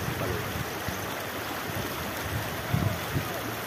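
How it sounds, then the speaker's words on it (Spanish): River water flowing along the Caño del Alejo during a football match by the riverbank, a steady broadband rush with a few low knocks and splashes near the end. "Estamos en el río Caño del Alejo."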